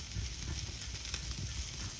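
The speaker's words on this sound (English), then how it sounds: "You can hear that fat sizzling." Beef fat for Baltimore pit beef sizzles and drips while cooking over a fireplace, a faint, steady crackling hiss with small pops.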